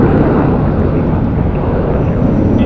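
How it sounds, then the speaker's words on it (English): An American Airlines airliner, flight 501 to Mexico City, departs from the runway at Phoenix Sky Harbor Airport, a loud, steady broadband jet roar that fills the whole moment without pause. "And next up for departure is American Airlines 501, going to Mexico City."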